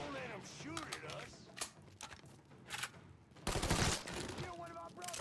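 Gunfire in a Mafia III shootout, sharp shots rising briefly over a busy mix of game effects and voices, with a loud burst of fire near the end.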